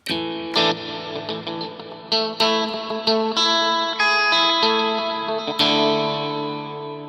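Electric guitar notes and chords ringing out with a delay effect, repeats trailing behind each strum, spacious and steady with no voices.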